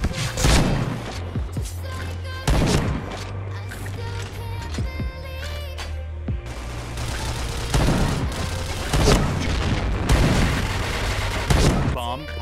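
Gunfire and explosive blasts from the online shooter game Point Blank, with repeated loud bursts and booms over a continuous battle din, and voices calling out in the game.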